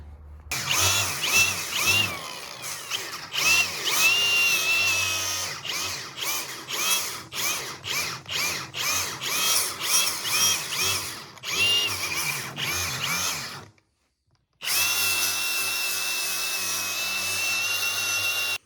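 Power tool grinding and roughing up rubber on an off-road UTV tire sidewall before a patch repair, a loud whining buzz in rapid on-off bursts, then a brief pause and one long continuous run.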